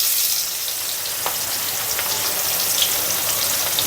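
Onions fry in hot oil in a pan for beef biryani, a steady, loud, dense sizzle that carries on unbroken, close up and with no talking.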